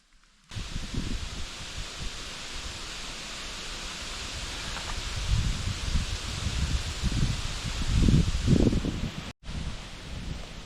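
Steady wind rushes through forest trees on a rainy day, a dense rustling hiss that swells in gusts and briefly cuts out near the end.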